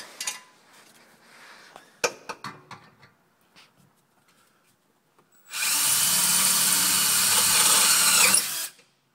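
A power drill bores through a stainless steel exhaust header, first with scattered clanks and handling knocks, then a loud, steady high-pitched whining drill run lasting about three seconds before it abruptly stops, close up.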